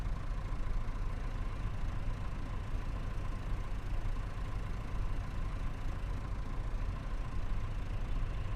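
A tractor engine idles steadily in the Farming Simulator 25 video game, hitched to a heavy roller on a farm map, giving a continuous low rumble that holds at an even level throughout with no talk over it.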